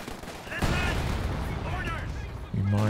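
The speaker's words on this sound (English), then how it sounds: "Mines triggering." Mines detonate amid a WWII strategy game battle with T-34 and Panzer IV tanks: a constant roaring din of gunfire and blasts, with a sharper, louder burst near the end.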